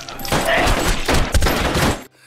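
A burst of gunfire in an action film, a rapid volley of several sharp shots layered over a busy soundtrack, loud and close, ending suddenly.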